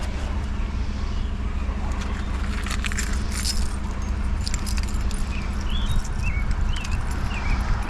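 A bunch of keys jangles at a locked door during street scrapping outdoors, steady light metallic rattling over constant background noise with faint traffic rumble and occasional bird chirps.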